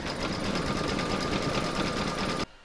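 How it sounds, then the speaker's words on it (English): Embroidery machine stitching a quilted border round on an in-the-hoop Fourth of July coaster, a steady fast mechanical chatter with a constant whine, close and loud, stopping abruptly near the end. "can now pop your hoop back into your machine and stitch round number 7"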